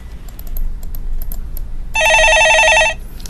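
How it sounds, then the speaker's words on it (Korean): A telephone rings once in a broadcast studio, one sharp electronic trill lasting about a second after light keyboard tapping, with no talk. "예, 전화 받아보겠습니다."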